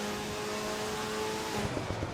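A racing car in a driving video game runs its engine with a steady tonal whine, then shifts gears, with quick revving blips near the end.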